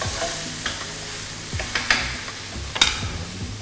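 Cooked seasoning paste sizzles steadily in a pan under a constant hiss, broken by scattered scraping clicks of a utensil stirring, close and moderately loud with no voices.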